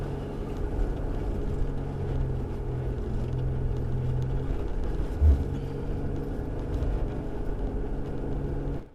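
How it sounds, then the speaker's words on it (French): A car engine labours under load while climbing a steep volcano road, a steady low droning rumble held for several seconds with one brief thump partway through, fairly quiet and without voices. "Le moteur, il travaille fort."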